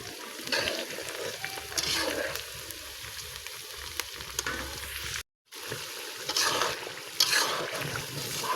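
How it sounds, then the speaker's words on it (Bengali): Food sizzles and crackles in a hot pan while a utensil stirs and scrapes, with a brief moment of silence partway through. "এতগুলো ভাজা হচ্ছে"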